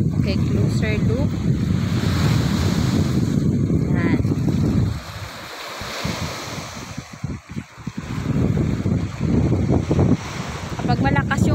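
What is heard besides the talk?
sea waves and wind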